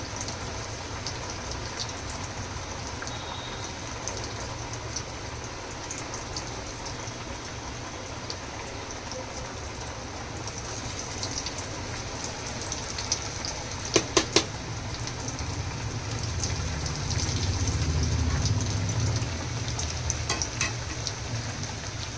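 Vegetarian food roasts in a pan over a medium gas flame for a sattvic Shravan thali made without onion or garlic, a steady close sizzle like light rain that runs unbroken, with a few sharp clicks of stirring.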